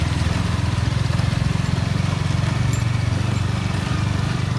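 A motorcycle engine idles close by at a lake during a fishing trip, a loud, steady throbbing chug that runs evenly for several seconds without any speech.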